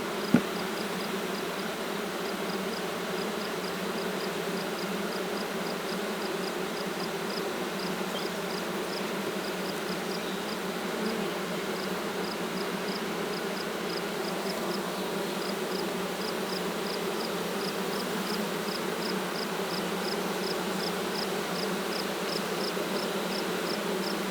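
Honeybees hum steadily and fairly close around beehive frames being inspected, a dense continuous buzz of many insects with no talk over it.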